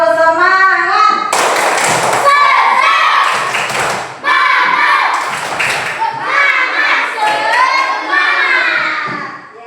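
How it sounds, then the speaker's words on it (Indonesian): Classroom of children performs a rhythmic spirit clap, with sharp patterned claps and thumps alternating with loud chanting voices, close and energetic, pausing briefly midway before resuming. "sekarang kita tepuk semangat dulu."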